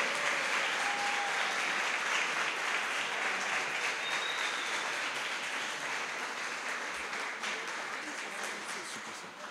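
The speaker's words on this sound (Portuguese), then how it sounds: "Uma salva de palmas aos 18 candidatos e candidatas eleitos ao Comitê da Pop Rua." Sustained applause from an audience at an installation ceremony for the Pop Rua committee, greeting the 18 elected candidates; broad steady clapping that holds for the whole stretch and thins gradually toward the end.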